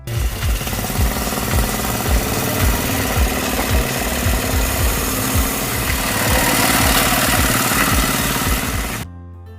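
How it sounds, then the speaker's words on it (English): Homemade tractor powered by an 8-horsepower Kohler K181 lawnmower engine, fitted with a 28mm carburetor, runs with a steady, loud, pulsing chug for about nine seconds, then cuts off abruptly. "The heart of the model is an 8-horsepower engine taken from a Kohler K181 lawnmower"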